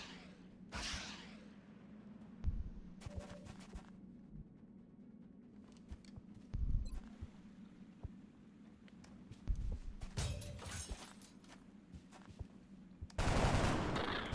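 Gunfire in XCOM: Enemy Within: several short bursts of shots, loudest near the end, spaced apart by quiet stretches over a low steady hum.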